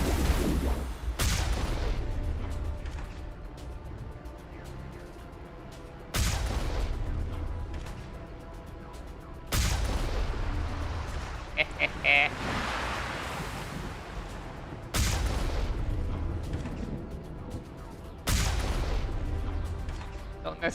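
Heavy tank shells firing in the video game Mass Effect, five loud booming blasts spaced a few seconds apart, each followed by a rumbling tail over a constant low background roar.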